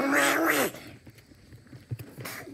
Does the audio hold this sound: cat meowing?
yes